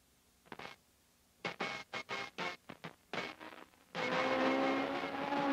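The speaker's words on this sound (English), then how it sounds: "Today, ocean sounds have been replaced by the thunder of 200 horsepower racing engines." Engines of 200-horsepower Atlantic-series racing cars at Atlantic Motorsport Park, Nova Scotia, in 1976: a series of short, faint revving bursts followed by a sustained, steady engine drone, heard at a distance.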